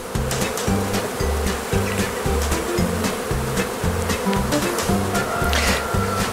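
Dense, steady drone of honeybees packed inside a beehive with the frame lifted, loud and close with a constant layered hum and no voices.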